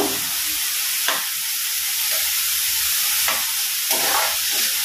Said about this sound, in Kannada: ಇದು ಕ್ಲೀನಾಗಿ ವಾಶ್ ಮಾಡಿ ಇಟ್ಕೊಂಡಿರುವಂತಹ ತರಕಾರಿ. ಇದು ಒಂದು ಸ್ವಲ್ಪ ಫ್ರೈ ಆಗಲಿ.